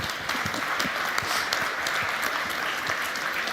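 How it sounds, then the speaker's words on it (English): Audience applause at a startup fair main stage event, steady dense clapping from a crowd throughout, fairly loud and continuous with no talk over it. "a round of applause for you"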